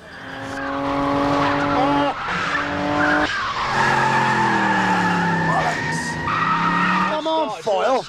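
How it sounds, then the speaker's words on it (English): A car with a broken gearbox skidding and sliding around, tyres squealing in long wavering tones that rise and fall over a strained engine, close and loud, with sharp breaks between slides. "Sliding around, it's broken the gearbox."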